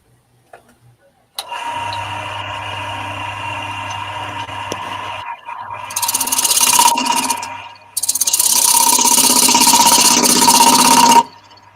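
A wooden tenon on a scrap pine base being shaped by hand with a rasping, scraping tool, a close, loud, continuous rubbing that pauses briefly and then returns.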